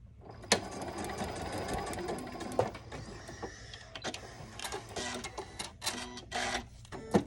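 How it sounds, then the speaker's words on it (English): A sewing machine stitches a quilt block in quick mechanical bursts, each run of rapid needle clatter broken by short pauses, close and clear with no talking. "And sew on the line in between C1 and C2, just going in order"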